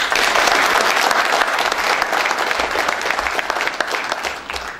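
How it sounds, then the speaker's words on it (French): Sustained applause from a conference audience at the closing ceremony of the CoTuMe' 2014 congress, a dense, loud patter of many hands that eases slightly toward the end. "Et je vous demande de les applaudir tous."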